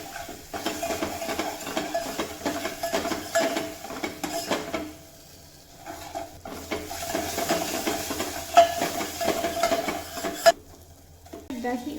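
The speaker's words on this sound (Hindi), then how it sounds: "थोड़ा सा कश्मीरी लाल मिर्ची का पाउडर और कढ़ी के हिसाब से नमक, और इस मसाला को फ्राई कर लेंगे।" Masala with Kashmiri red chili powder and salt fries in a pan for kadhi, a soft steady sizzle broken by repeated spoon scrapes and stirring clinks against the metal, with brief quiet pauses.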